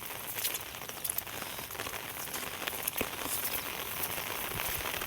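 Steady rain patters down on a surface, a dense continuous hiss with scattered louder drops, no voices.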